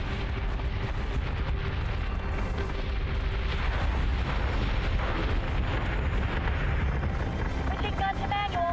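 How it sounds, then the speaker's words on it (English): Ship batteries in the space combat game Battlestar Galactica: Deadlock unleash a continuous rumbling barrage of gunfire and explosions, dense and booming throughout, with a faint tonal beep near the end. "Fire at will."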